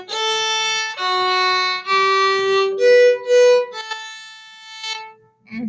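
A string instrument plays two measures of a beginner exercise in separate sustained bowed notes, clear and close, each held about a second, then a short pause and a brief voice at the end.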